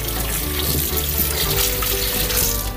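Tap water runs steadily onto about 1.4 kg of partly frozen beef ribs being rinsed in a kitchen sink, a continuous close splashing rush with no talk.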